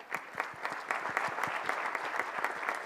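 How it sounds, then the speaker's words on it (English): Audience applause at an archery World Cup Final in Tlaxcala, a modest, somewhat distant crowd clapping in a loose rhythm for a couple of seconds. "let's get a big round of applause for the primetime lineup in your recurve men category"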